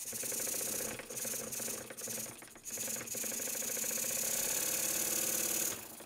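A Stuart S50 model steam engine running on compressed air during an air pressure test gives a fast, even mechanical chuffing and hiss. The sound is fairly faint and briefly stutters near the start before settling into a steady run.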